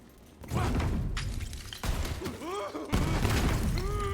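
A cannon shot in the video game Borderlands 3 lands as a heavy boom with a sharp crack and debris. Several loud impacts follow, each set against busy game effects and whooshing tones.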